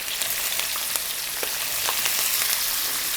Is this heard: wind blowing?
no